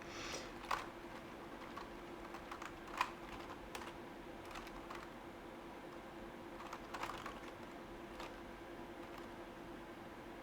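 Fingers tapping a computer keyboard in quick, irregular bursts of soft clicks, with a few sharper keystrokes standing out against a steady low hum in a quiet room.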